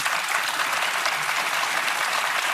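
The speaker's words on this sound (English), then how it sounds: "Dummies clapping in the background." An audience claps steadily in the background on a live talk show, a dense, continuous wash of applause that stays loud and even throughout, with no voices over it.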